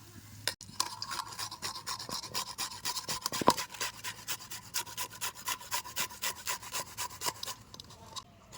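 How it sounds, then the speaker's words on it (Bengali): A small unripe green mango is grated by hand for a sour-spicy tengra fish curry, giving a steady run of quick, close rasping strokes in an even rhythm with no talking. "আমি একটু গ্রেট করে নেব"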